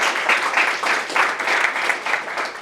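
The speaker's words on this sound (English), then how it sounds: "A nice round of applause for Bernadette." Steady applause from an audience at a public awareness meeting on gigabit fiber internet in Gettysburg, Pennsylvania, a dense wash of many hands clapping at even volume for nearly three seconds with no talking.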